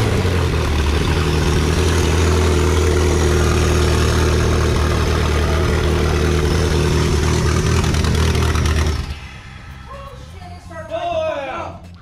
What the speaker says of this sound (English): this is gonna be loud. This is straight off the turbo.